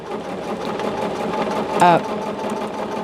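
A sewing machine stitches a bag made with fusible grid. Its rapid, steady mechanical chatter is close and continuous, and a voice is briefly heard over it partway through.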